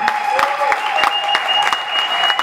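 Church audience applauding the patriarch, dense rapid clapping from many hands that stays loud and steady throughout.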